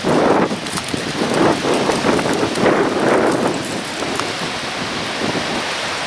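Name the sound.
wind blowing through trees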